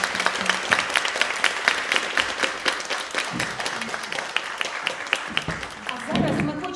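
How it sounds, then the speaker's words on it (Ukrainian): A concert audience at a Ukrainian culture workers' day celebration applauds with dense, steady clapping that fills the hall, with a voice briefly rising near the end. "аплодисментів!"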